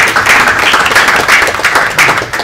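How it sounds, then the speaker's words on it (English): Audience applause at a round-table on government hacking at a privacy conference, a dense, steady patter of many hands clapping at close range throughout, with faint voices mixed in. "let's have a round of applause"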